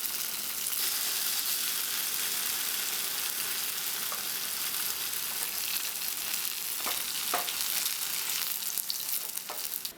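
Tempeh and tofu being turned in a frying pan give a loud, steady sizzle and crackle throughout, with a few sharp clicks and scrapes of a utensil toward the end and no voices.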